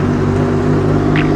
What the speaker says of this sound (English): That's our neighbour Alan with his Mustang.